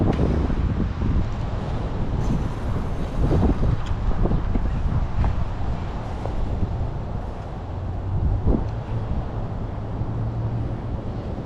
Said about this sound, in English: See how freaking windy it is,